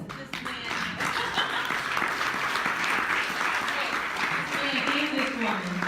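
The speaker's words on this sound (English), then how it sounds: "And this woman, a round of applause." Audience applause at a digital inclusion coalition meeting, a steady mass of clapping that carries on while a voice speaks over it.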